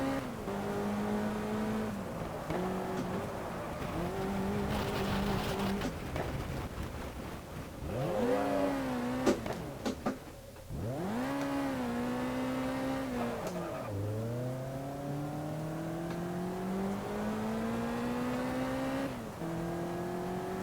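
Race cars roaring around a track in the racing game GT Legends, engines revving up and down through gear changes, with a close car whose pitch swoops sharply as others pass, loud and continuous.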